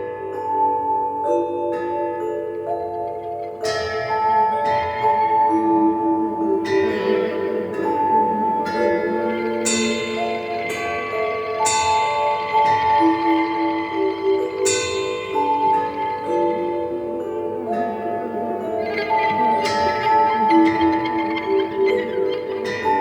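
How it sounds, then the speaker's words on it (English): Programmable tubular bells ring out a sequenced melody, loud metallic strikes with long shimmering decays overlapping one another in a steady rhythmic pattern, with no voices. "we play that with a sequence on the bells"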